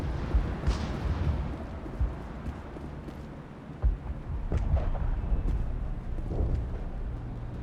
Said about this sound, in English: How is a woman supposed to think with guns going off all around?